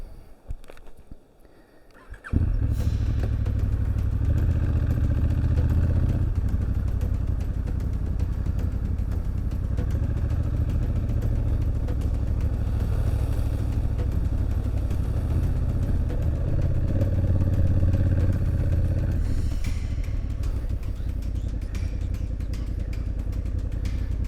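A heavy adventure motorcycle crossing a river rumbles steadily and loud after a brief quieter start, with clattering and splashing mixed into the continuous low drone.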